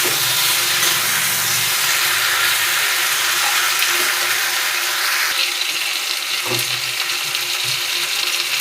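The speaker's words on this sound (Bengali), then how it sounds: "আদা সর্ষে বাটাটা দিয়ে একটু নাড়াচাড়া করার পর অল্প পরিমাণে জল দিয়ে দিচ্ছি।" Water is poured into a hot pan of sizzling ginger and mustard paste for a Malabar spinach dish, giving a steady loud hiss and steamy crackle close up with no voices.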